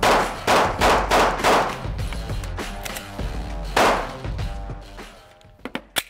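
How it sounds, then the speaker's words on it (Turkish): A System Defence C9 rifle fires bursts at a shooting range: loud, rapid volleys of sharp cracks, a pause, another burst, then a few isolated single shots. "Şimdi bir seri atışa geçeceğim."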